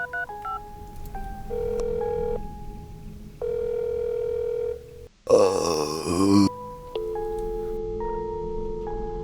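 A telephone call in a horror radio drama: tones ring out in long, spaced pulses, then the line cuts off abruptly with a brief garbled burst before a steady tone resumes, with no voices.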